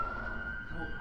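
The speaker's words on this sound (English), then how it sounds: "if you're hearing sirens driving by" Emergency vehicle siren passing along a busy Southern California street, a steady wailing tone held under background room noise and faint talk.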